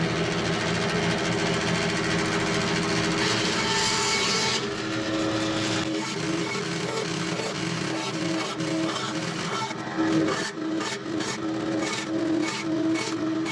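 A power saw buzzes steadily as it slices small wooden pieces for a woodturning project, then breaks into a run of short, repeated cuts that start and stop in quick succession, loud and close with no talk.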